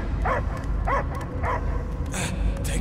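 A dog-like creature in a video game barks and yips several times at a steady rhythm, fairly close, over a constant rumbling game background. A voice speaks briefly toward the end.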